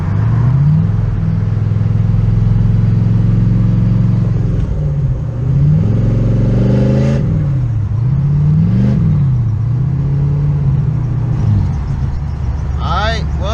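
Car engine accelerating on the road, loud and close, its pitch climbing and dropping through repeated revs and gear changes over a constant low rumble.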